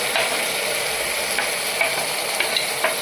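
Chopped onions sizzle and fry in a pressure cooker, steady bright crackle close up with a few scraping stirs of a spoon against the pot, no voices.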